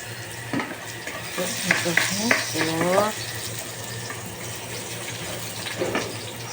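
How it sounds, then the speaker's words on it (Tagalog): Garlic and onions sautéing in a pan for a chicken liver dish, a steady close sizzle with scraping stirs and a few spoon knocks, with faint background noise. "Igigisa ko po. Lagay ko ng garlic, onions"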